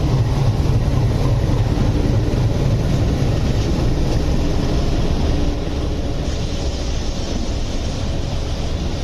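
The 12859 Gitanjali Express rolls into Santragachi junction with a loud, steady rumble of wheels and coaches that continues unbroken throughout, and no voices are heard.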